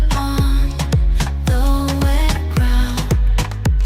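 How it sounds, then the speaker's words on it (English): An AI-generated Suno song rides a Moombahton beat: punchy, booming kick hits in a steady syncopated groove under sustained synth and melodic layers, loud and dense. "you can hear that same Moombahton beat subtly in the background"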